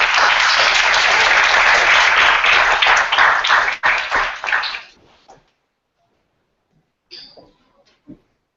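Audience applause at an elementary school innovation space dedication ceremony, loud sustained clapping from a crowd that thins into scattered claps and stops after about five seconds, followed by near silence.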